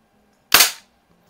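A Winchester 1977XS multi-pump BB gun fires once after two pumps, giving a single sharp, loud crack that decays quickly into near silence.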